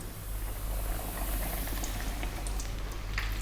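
Steady bubbling sizzle of battered fish frying in hot oil, continuous and fairly loud, with a low hum underneath and no voices.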